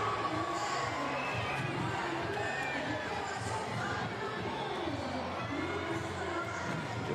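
Large crowd at Suzanne-Lenglen stadium cheering and chattering steadily through a Paralympic wheelchair tennis men's doubles bronze medal match between Spain and France, a dense continuous roar with scattered shouts and children's voices.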